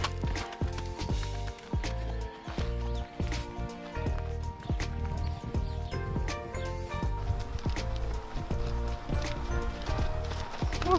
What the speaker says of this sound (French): on va descendre le poney tranquillement